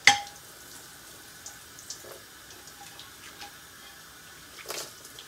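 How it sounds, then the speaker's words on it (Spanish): A thin trickle of water runs from a kitchen tap, a faint steady splash with a sharp clatter at the start and a few soft knocks and splashes later, no voices. "Estoy con un puto chorrito de agua"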